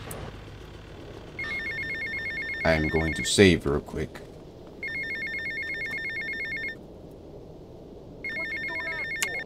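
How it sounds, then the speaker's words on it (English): A telephone rings in GTA Vice City, three bursts of an electronic trilling tone separated by pauses, loud and up front, with a brief burst of game sound and someone speaking between rings. "Alright, answer the phone."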